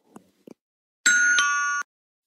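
A Roblox game doorbell gives one sustained bright electronic chime lasting under a second, after a few faint clicks, then cuts off into silence.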